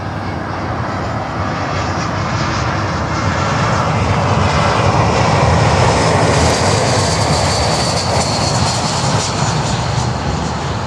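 Cargo jet airliners at Miami airport, including a LATAM Boeing 767-300 freighter, roar steadily with a loud, broadband engine rumble that swells slightly midway and holds throughout, with no talk over it.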